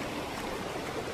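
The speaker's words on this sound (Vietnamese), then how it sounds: "suối giữa rừng nguyên sinh" A clear stream runs through primeval forest in Chư Mom Ray National Park, a soft, continuous babble of flowing water heard faintly and alone.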